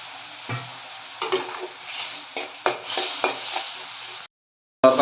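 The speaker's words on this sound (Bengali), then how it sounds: "সুন্দর করে মাখাবো পেঁয়াজটাকে।" Onions stirred in a pan with salt, chili and cumin, with soft scraping strokes and a light sizzle, close by, broken up by a few louder clatters and a short gap of silence.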